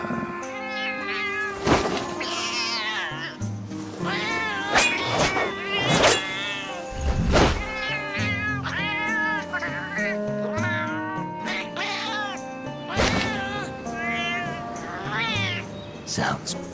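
A talking cat in the Metal Gear Solid Peace Walker game meows repeatedly in varied, expressive cries, close and loud, with rapid successive calls across the whole stretch.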